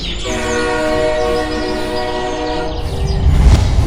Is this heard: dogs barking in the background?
no